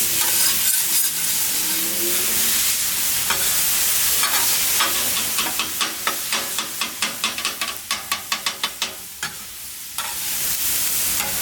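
Vegetables stirred and frying in oil in a pan for turkey quesatacos, a steady loud sizzle with a run of rhythmic scraping strokes in the middle, no talking.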